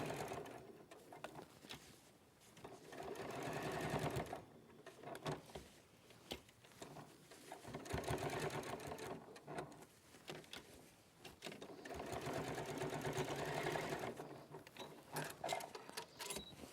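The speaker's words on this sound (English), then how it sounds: "sew all the way down, stop, sew across, stop, sew back up." A sewing machine stitches the ends of a bag handle in several runs, a close, rapid mechanical chatter with short pauses between seams.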